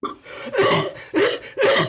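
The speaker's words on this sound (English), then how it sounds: "who, coughing flu-like, moves away" Three hoarse, chesty coughs in a row, close and loud, with rough breathy bursts separated by short pauses.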